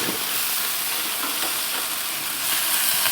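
Orange slices sizzle and crackle on a hot grill next to spicy chicken, a dense steady hiss of frying with faint pops, close and loud throughout, no talking.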